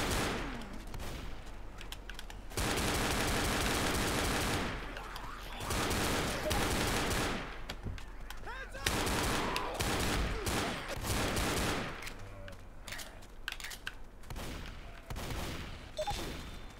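Gunshots in the zombie shooter game Left 4 Dead ring out in repeated rapid volleys and single cracks, loud and sustained, with brief pauses between bursts.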